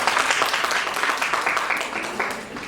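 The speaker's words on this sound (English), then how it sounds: "Big round of applause for them." Audience applause in a college hall at an English department quiz celebrating Shakespeare, a dense, steady wash of many hands clapping at close range, lasting a few seconds and tapering slightly toward the end.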